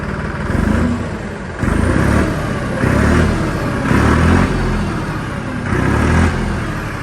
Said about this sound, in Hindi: टर्बो की साउंड आप सुन सकते हैं किसान भाइयों,